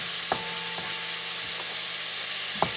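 Puerto Rican sofrito with onions sizzles in a pan for shrimp soup, a steady close frying hiss broken by a few faint taps of a stirring utensil.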